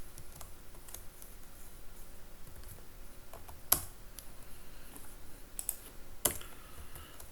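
Soft keystrokes tap on a computer keyboard in a quiet room, an irregular patter of quick clicks with a few sharper, louder key hits scattered throughout.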